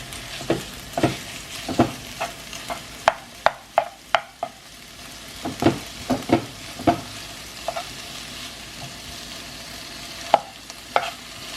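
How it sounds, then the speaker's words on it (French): Onions and lardons frying in a pan, a steady sizzle broken by a long run of sharp, irregular knocks and scrapes from a utensil stirring against the pan, close and fairly loud. "je vais faire les oignons avec les lardons"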